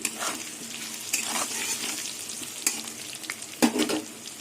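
Potato pieces frying in a pan, giving a continuous close sizzle with a few stirring scrapes and light clinks near the end.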